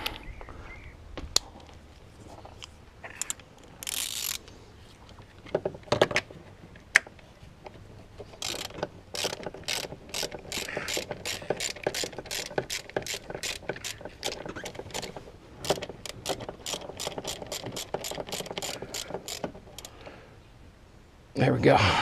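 A ratchet tightening spark plugs on a Mercedes E320 W210, with a long, even run of sharp, close clicks following some earlier handling noises. A voice talks underneath.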